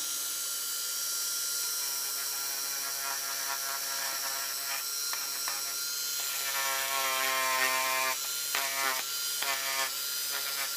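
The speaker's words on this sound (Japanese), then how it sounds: "こういったものをこういうハケのドリルっていうかな" A brush-type drill scours soot from inside the node of a shakuhachi bamboo tube after oil extraction, making a steady whirring, scraping drone that grows rougher and more broken toward the end.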